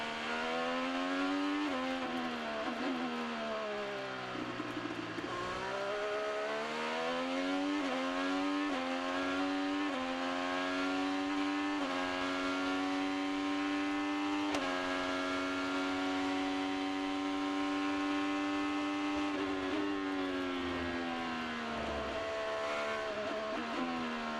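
An IndyCar driven by Will Power at the Grand Prix of Portland screams through repeated upshifts and downshifts, a loud, piercing, high-revving engine rising and falling over and over with no talk.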